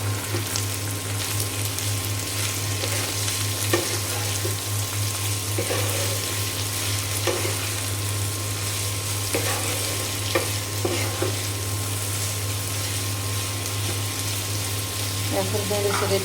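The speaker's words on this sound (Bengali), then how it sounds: "এখন নেড়ে ছেড়ে দিয়ে আমি ঢাকনা দিয়ে ঢেকে দেব" Bitter gourd and potato fry in a pan with turmeric and salt, giving a constant sizzle over a steady low hum, with occasional stirring scrapes nearby.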